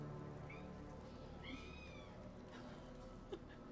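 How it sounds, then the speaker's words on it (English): A female house cat meows a couple of times, drawn-out and fairly faint, over a steady low background hum. "she's meowing really loudly"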